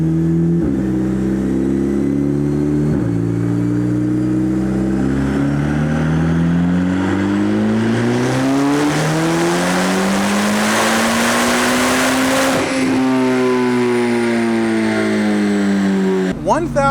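A Chevrolet Corvette C8 ZR1 running JB4 Map 2 on E30 fuel roars through a full dyno pull, its engine pitch climbing steadily through the gears before dropping away, loud and close.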